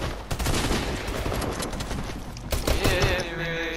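Rapid mechanical gunfire rattles through a chaotic multiplayer game scene from a harpoon gun, a dense clattering burst fading into whirring, ratcheting mechanism sounds toward the end, with no speech over it.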